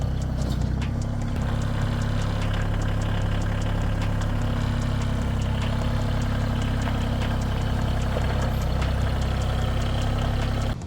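A compact tractor engine idles steadily with a low, even rumble and faint ticking, running continuously at close range without any talking.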